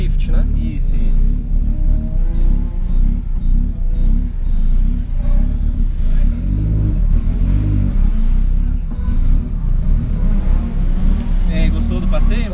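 Drift car engine roaring during a drift ride, a loud continuous rumble with rising and falling revs close by, with people talking over it.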